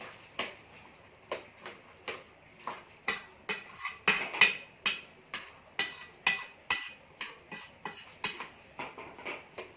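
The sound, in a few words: spoon stirring washed banana mixture for beghukbus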